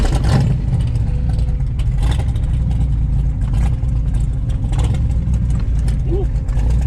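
A big-block four-speed C3 Corvette with side pipes drives along, its engine a loud, steady, deep rumble close by, with a short voice near the end.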